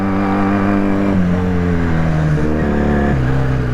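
A Honda Superdream motorcycle engine runs loudly and close, its pitch stepping through a few gear changes as the bike moves off, with no speech.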